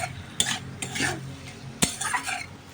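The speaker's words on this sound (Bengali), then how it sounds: "এবার এটাকে ভালো করে আমি কষিয়ে নেব।" Banana flower with prawns being sautéed in a pan, a spoon scraping and stirring with a few sharp clinks against the metal over a low background sizzle.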